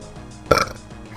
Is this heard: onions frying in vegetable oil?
no